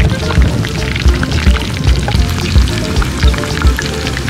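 Pork bagnet deep-frying in hot oil gives a steady, dense crackle and sizzle with small popping bursts throughout, fairly close and loud.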